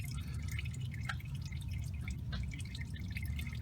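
Transmission fluid from a 2004-2008 Ford F-150 drips steadily into a drain pan, a faint, close patter of irregular drops heard alone without talk.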